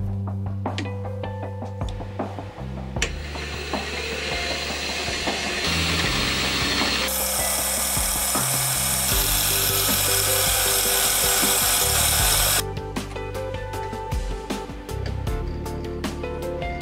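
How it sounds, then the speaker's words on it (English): Metal drilling and tapping in a home machine shop, a hole cut for a set screw on a pinion head depthing tool, with a steady machine drone that swells into a loud, bright whirring stretch midway before easing back. "The next step was to drill and tap a hole to take a set screw."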